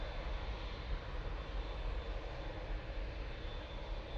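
An airliner departs Manchester Airport bound for Helsinki, its engines a steady, broad roar held at an even level throughout with no voices.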